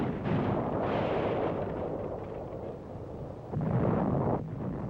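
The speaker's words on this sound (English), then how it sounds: "A church, apparently taken for an Allied OP, comes under heavy Nazi artillery fire." Heavy artillery fire shelling a church at Linnich during a winter offensive: deep rumbling booms and continuous low roaring blasts, distant and muffled, with a stronger surge near the end.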